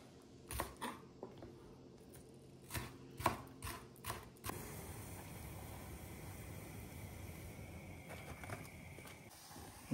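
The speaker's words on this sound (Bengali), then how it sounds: "এইবার কাটবো যেটা খুব ইম্পর্টেন্ট সালসার জন্য, এটা ভীষণ ভীষণ ইম্পর্টেন্ট, সেটা হচ্ছে রেড বেল পেপার আর ইয়েলো বেল পেপার" A knife chops red and yellow bell peppers for salsa on a board, a handful of crisp separate cuts at an uneven pace close by, then a soft steady rustle takes over.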